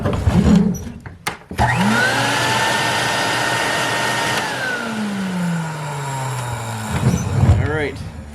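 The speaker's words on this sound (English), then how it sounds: "vacuum cleaner works" An Electrolux vacuum cleaner starts and runs with a steady droning whine, with a short break near the start and voices talking over it toward the end.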